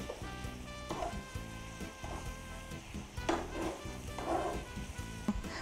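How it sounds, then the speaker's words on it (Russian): Pork sizzling steadily in hot oil in a pan, a constant crackling hiss with occasional louder pops and clinks. "Пока мясо жарится"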